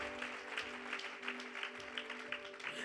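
A church congregation bursts into sustained applause during a French-language sermon, a dense, steady clapping that holds for the whole stretch without letting up.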